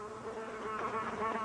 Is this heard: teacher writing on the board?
no